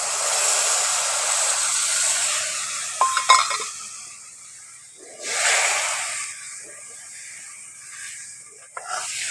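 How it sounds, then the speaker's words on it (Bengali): Water poured into hot masala for a prawn curry, producing a loud hissing sizzle that fades, then a second sharp hiss and bubbling, with a brief metallic clink of a utensil between. "এবার কিন্তু জলটা দিতে হবে। এখন জলটা দিয়ে দিচ্ছি।"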